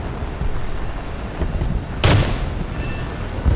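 An artillery strike in War Thunder lands with a single sharp, loud blast, rising out of steady engine and battle rumble and then trailing off into continued background noise.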